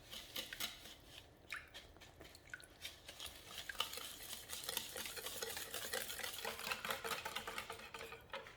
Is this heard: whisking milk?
yes